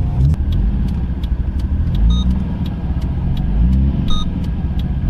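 Idling engine of a Nissan R32 GTR under braking outside a workshop yard, a steady close low rumble with slight surges and faint light clicks, running throughout without talk.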